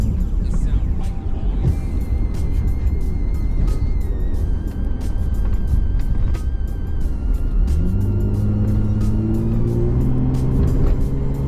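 A Mercedes S320L drives up a ramp and takes a bend, its engine a loud, steady drone close by. Near the end it rises in pitch under load, and no one speaks.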